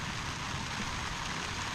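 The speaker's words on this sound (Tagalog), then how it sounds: "lumakas na naman ang ulan mga kabisig" Heavy rain falls in a constant, loud, even wash of noise that fills the whole short stretch, with no voices.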